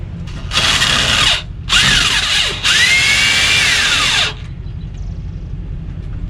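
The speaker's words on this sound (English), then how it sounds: "And then I use a drill with a 3/4 head on it." A power drill with a 3/4 bit whines in three bursts, its pitch sagging under load as it bores into hard ground, then stops, leaving a low background hum.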